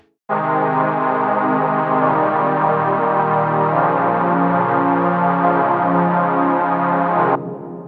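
A Logic stock synthesizer plays sustained chorus chords for several seconds, changing harmony every couple of beats, full and loud, then cutting off abruptly.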